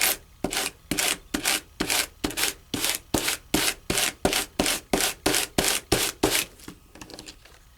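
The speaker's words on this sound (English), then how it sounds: "You really want to sand it in the same direction." Embossed cardstock paper is sanded in about twenty quick, even rubbing strokes, each one a crisp scratchy swish, heard close up and alone.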